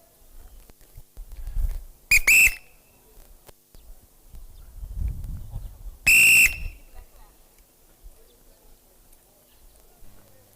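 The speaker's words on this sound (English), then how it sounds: "I like starting with the whistle because then it's close to electronic times" Two loud, shrill blasts from a coach's whistle signal the start of sprint runs at a speed training clinic, spaced a few seconds apart, with soft voices and outdoor background between them.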